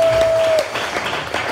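A church congregation at a Sunday service applauds to acclaim the Lord, a brief wash of dense clapping heard from within the room alongside a steady tone that fades after the first half second.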